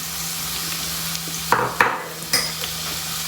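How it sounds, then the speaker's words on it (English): Ginger garlic paste with turmeric frying in a pan, a soft steady sizzle broken by a few close clinks and scrapes of a spoon against the pan. "now I'm going to fry it"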